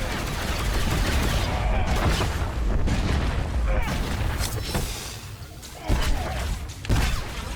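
Imperial Sniper's rifle shots in Star Wars: The Old Republic, a dense volley of loud booming blasts rolling together, with two sharper punches near the end.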